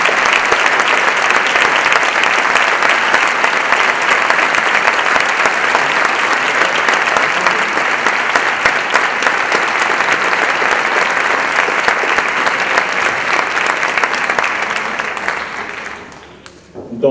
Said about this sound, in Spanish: Por lo que les pido un aplauso para él.